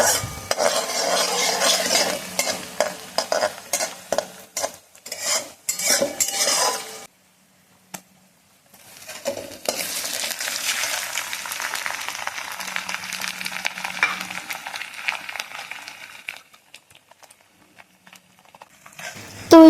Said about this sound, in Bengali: এখন ভালোভাবে কষিয়ে নেবো গন্ধনা ছাড়া অবধি